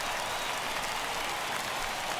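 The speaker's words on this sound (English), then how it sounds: "listen to this crowd now. They are really into this" A ballpark crowd in the video game MLB The Show 21 roars and applauds in a dense, continuous wash of noise during a tense full-count moment, with no distinct voices standing out.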